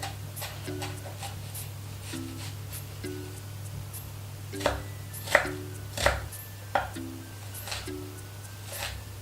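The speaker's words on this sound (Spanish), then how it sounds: "Picamos el perejil y la cebolla." A knife chops parsley and onion on a board, sparse crisp knocks at an uneven pace, a few sharper and louder cuts in the middle, over a steady low hum with no talking.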